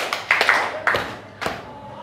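A school class claps a counted pattern, a few distinct sharp claps spaced unevenly in a small classroom, fairly close and without talk.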